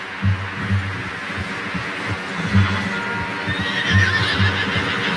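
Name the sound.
horse neighing in a video game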